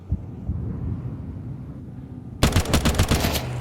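A Counter-Strike 2 firefight at IEM Dallas 2025: after a quiet stretch, a sudden loud burst of rapid automatic gunfire breaks out close by and continues in quick repeated shots.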